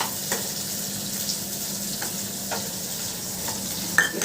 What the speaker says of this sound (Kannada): ಆನಿಯನ್ ಹಾಕ್ಕೊತಾ ಇದ್ದೀನಿ ಫ್ರೈ ಮಾಡೋಕ್ಕೆ.